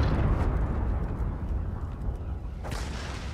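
Rumbling, continuous explosion noise from a World of Tanks battle, loud and dense throughout with a sharp burst near the end.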